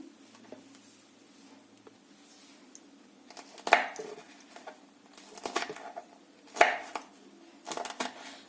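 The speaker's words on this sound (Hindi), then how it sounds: "ऐसे ही हम सारे मिर्ची को काट लेते हैं।" Green chillies being chopped for pickle on a board, a few clustered knife strikes in short bursts against a quiet background, fairly close and moderately loud.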